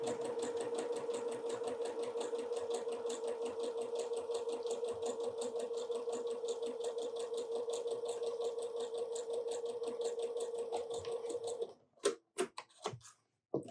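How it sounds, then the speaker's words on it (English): A sewing machine joins quilt pieces together in one long, steady, rapid stitching run with a rhythmic mechanical tick, then stops, followed by a few sharp clicks and handling knocks. "I'm going to sew these pieces together."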